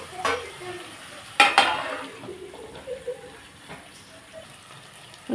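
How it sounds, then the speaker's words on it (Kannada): Brinjal (eggplant) frying in oil in a pan, with a low sizzle under a few sharp clanks and scrapes of stirring, close by; a faint voice is briefly audible. "ಬದನೆಕಾಯಿ ಇನ್ನು ಎರಡು ನಿಮಿಷ ಫ್ರೈ ಆಗಲಿ"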